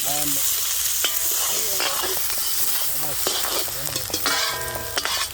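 Finely chopped big onions frying for a chicken momos filling make a strong, steady sizzle with stirring scrapes, while voices talk over it throughout.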